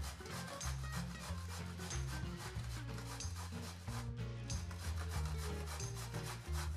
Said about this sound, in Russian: Теперь тыкву натираем на крупной терке.